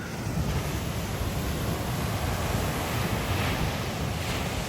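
Powerful sea waves crash and roar along a town beach, a dense continuous wash of surf with wind noise across the microphone, loud and unbroken with no voices.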